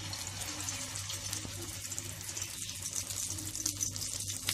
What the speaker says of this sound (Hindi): अब तेल हमारा गरम हो गया है, अब इसमें डालेंगे हम अपने कबाब।